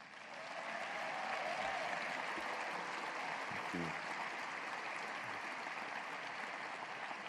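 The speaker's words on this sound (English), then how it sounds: "Another round of applause for Jennifer." An audience at a university State of the University address applauds an honoree, the clapping swelling in over the first second and then holding as a steady, moderately distant wash with a few faint voices mixed in.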